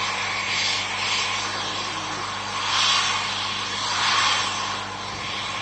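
A French military Falcon jet passes overhead, a steady broad engine roar that swells twice, moderately loud and slightly distant, with no voices.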